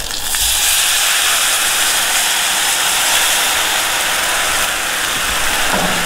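Loud, intense sizzling and hissing as water hits pot stickers sautéing in a pan on low heat, a dense continuous roar of steam that holds steady throughout.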